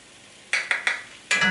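Flour being stirred into softened onions in a pot for vegetarian French onion soup: a few short scraping strokes close by, then a longer scrape with a light sizzle beneath, no talking.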